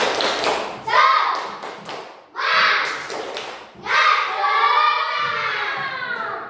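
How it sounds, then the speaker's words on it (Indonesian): A class of schoolchildren claps a rhythmic spirit cheer in a classroom, delivering three loud bursts of patterned clapping with short gaps between them, joined by children's voices. "Tepuk semangat."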